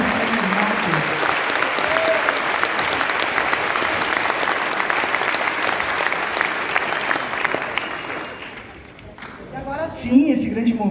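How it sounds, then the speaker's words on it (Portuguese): A crowd applauds the pre-candidates at a political event on future cities and ecological transformation, with dense, loud, continuous clapping for about nine seconds that then dies down as voices begin. "Palmas para todos os pré-candidatos,"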